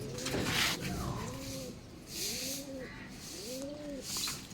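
Pigeons coo softly in a repeated rhythm, three or four rising-and-falling calls over faint background noise.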